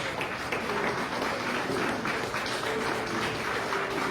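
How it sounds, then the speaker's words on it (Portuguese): A standing church congregation at a Portuguese-language sermon gives a round of applause, many hands clapping in a continuous, evenly sustained roar at moderate volume with no break. "dá uma salva de palmas para esse Deus"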